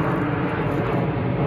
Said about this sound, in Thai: เสียงเครื่องบินไหม